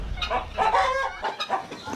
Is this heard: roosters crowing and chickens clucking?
yes